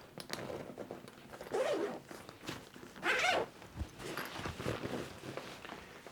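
Zippers on the lockable, PU-coated main clamshell compartment of a Tortuga Daily Carry Pro backpack being pulled open in a few close, loud rasping strokes, with no talking.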